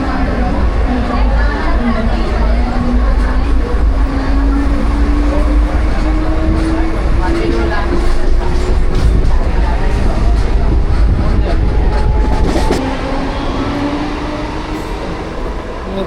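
A Mumbai train ride pulling into a station: loud continuous rumble and clatter of the carriages with a gliding brake whine that slowly rises, then the noise eases as the train slows, with people talking over it.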